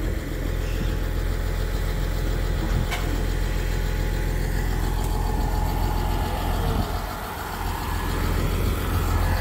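A tractor engine runs steadily at a constant drone while pulling a KF seeder through a field planting a cover crop mix, loud and close with no talk over it.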